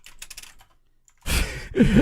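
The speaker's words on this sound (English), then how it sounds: "Furious typing." Fast, furious typing on a computer keyboard comes in a dense clatter of keystrokes, first faint and scattered, then loud and close after a brief pause, with a breathy sigh near the end.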